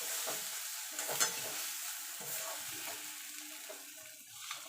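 Ridge gourd paste is stirred in oil in a wok, a soft, steady sizzle with scraping spoon strokes and occasional light taps against the pan.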